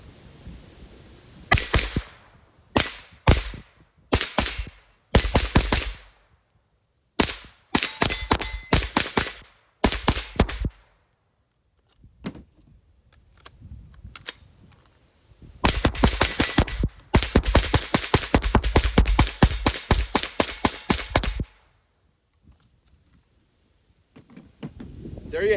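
A Tippmann M-4 RCR competition rifle fires CCI 40 grain Mini-Mag rounds in sharp, loud cracks, first as spaced single shots and then in long rapid strings, with quiet pauses between bursts.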